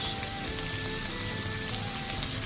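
Sliced carrots sizzle in a hot pan while yakisoba is being cooked, a steady dense frying hiss running the whole time with no voices over it.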